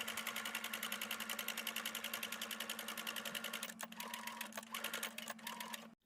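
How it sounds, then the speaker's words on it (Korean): A sewing machine stitches a hat brim to its crown in a steady, rapid run of needle strokes. It stops briefly several times near the end, then halts. "브림을 위쪽에 놓고 바느질 하십니다."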